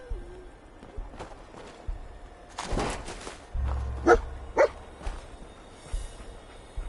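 A dog barks a few times in Fallout 4, short sharp yaps and a whimper scattered over quiet ambient game sound, moderately close.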